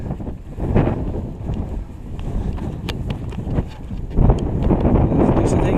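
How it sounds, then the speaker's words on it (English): Strong, gusty wind buffets the microphone on a trek in Patagonia, a steady low roar that surges in louder bursts near the start and again toward the end. "Supposed to be very windy and gusty."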